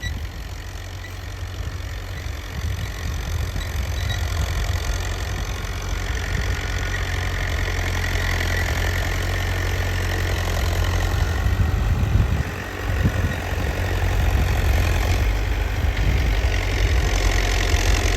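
A green New Holland 850 tractor, around 85 hp, idles steadily with a deep, even diesel throb, close and continuous, with a brief dip in level partway through and no one talking.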